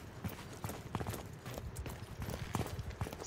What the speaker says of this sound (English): Just hear random horses running all over the place